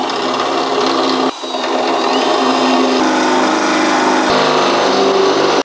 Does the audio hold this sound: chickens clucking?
no